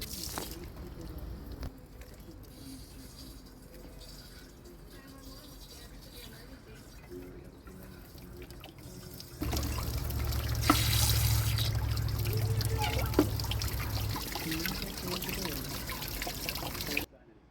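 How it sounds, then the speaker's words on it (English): Water flushing sediment out of an RV's Suburban water heater tank through a cleaning rod on a garden hose: a steady splashing gush that grows louder about halfway through and keeps running. "I purchased a cleaning rod that attaches to my garden hose to flush most of the sediment from the bottom of the tank."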